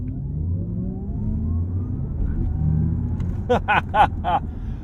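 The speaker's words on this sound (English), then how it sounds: "let's do a launch control 0 to 60." An Audi RS e-Tron GT electric car launches from a standstill to 60 mph, its low rumble and rising hum building steadily, with a few sharp tonal chirps near the end, heard from inside the car.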